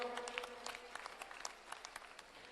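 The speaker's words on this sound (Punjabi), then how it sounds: "ਜੇ ਮੇਰੀ ਗੱਲ ਸੱਚੀ ਹੈ ਤਾਂ ਦੁਬਾਰੇ ਜ਼ੋਰ ਨਾਲ ਤਾੜੀ ਮਾਰੋ" Applause from a crowd at an outdoor political rally in Punjab, a dense steady patter of many hands clapping throughout, fairly close and sustained with no pauses.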